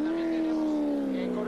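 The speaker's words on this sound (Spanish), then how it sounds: "haciendo sus donas, su burnout, la celebración" A NASCAR Mexico race car at Aguascalientes does celebratory donuts in a burnout, its engine holding a loud, steady droning roar that sags slightly in pitch, with a commentator talking over it.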